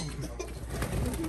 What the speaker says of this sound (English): They are going nuts.